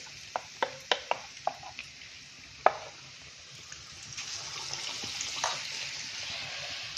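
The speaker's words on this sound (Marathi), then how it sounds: "आता हे सगळे वडे आपल्याला मोठ्या गॅसवरती तळून घ्यायचे आहेत" Vada pav potato fritters dropped one by one into hot oil, a quick series of sharp taps and plops followed by a rising, steady sizzle of deep frying.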